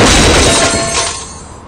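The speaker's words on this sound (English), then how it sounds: "This is the sound of a brand new outdoor grill being hurled off a 20-story building." Brand-new outdoor grill hurled off a 20-story building lands in one loud, bright crash of metal and shattering debris that rattles and fades out over about a second.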